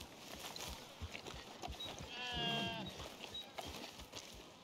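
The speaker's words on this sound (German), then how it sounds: "Ganz schöne Schafgeräusche da drin." A single sheep bleats in the middle distance inside the video game Red Dead Redemption 2, a brief wavering call over faint ambient background and soft clip-clop sounds.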